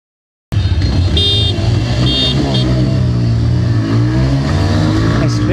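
A Bajaj Pulsar N160 and a TVS Raider 125 drag race: after a moment of silence, loud close engine roar bursts in and keeps revving and accelerating hard the whole time.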